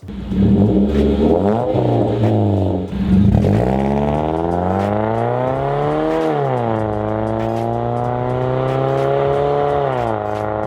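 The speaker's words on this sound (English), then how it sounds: "This is by far the best exhaust setup for the Mazda 3 sedan on stock exhaust." A Mazda 3 sedan's stock exhaust with second cat and muffler deleted drones loudly and revs repeatedly, pitch rising and falling through several throttle blips, raspy and close, with no talking.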